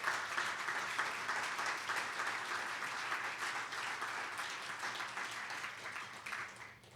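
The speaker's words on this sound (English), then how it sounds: "clap for that" A gala audience claps and applauds in a broad, continuous wash from a large crowd, steady throughout and easing slightly at the end, fairly distant.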